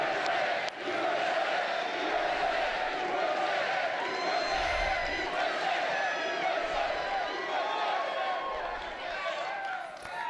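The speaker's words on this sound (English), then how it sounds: "She's feeling that Trump crowd, baby." A large crowd at a Trump political rally cheers and shouts continuously, a dense sustained roar with scattered whoops and a few low thumps.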